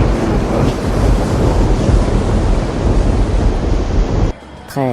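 Storm waves crash and roar in a dense, loud, continuous wash of surf and wind that fills the scene, then cuts off abruptly near the end to a quieter tail.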